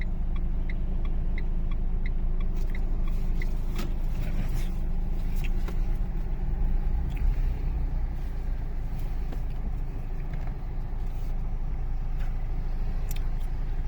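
A car pulls out slowly and carefully on a driving-test course, its steady low engine rumble continuous and close throughout, with faint traffic noise around and no talk.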